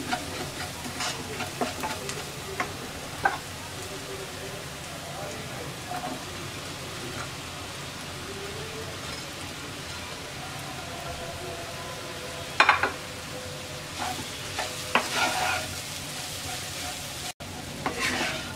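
Mashed potato with paprika, salt and spices cooks in a pan. A soft, even sizzle continues as a spatula stirs and scrapes in occasional louder strokes. The sound stays fairly faint and close, with no talking.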